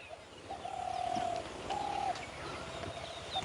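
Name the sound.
spotted dove cooing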